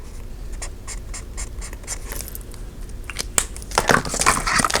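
A Mildliner highlighter drawn across paper in a discbound notebook, a run of quick, close, evenly spaced strokes that scratch harder and louder toward the end, with no one speaking.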